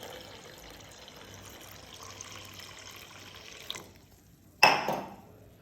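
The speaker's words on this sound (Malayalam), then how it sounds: "വെള്ളം ഒഴിച്ചു കൊടുക്കുക." Water poured into a bowl of urad dal with fenugreek for soaking: a soft steady trickle that stops, then a brief louder splash near the end, close and with no talk.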